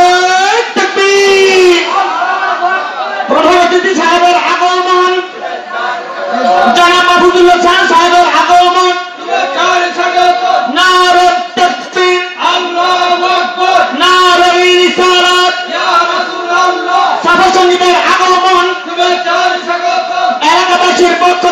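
A large gathering at an Islamic religious sermon chants the takbir in loud, repeated call-and-response waves, voices rising together in a rhythmic, echoing roar.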